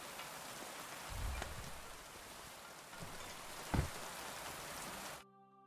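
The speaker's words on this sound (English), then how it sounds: "It's only raining." Steady rain hisses down in a scene from the video game Kingdom Come, with a couple of soft low thuds along the way, before the sound cuts off abruptly.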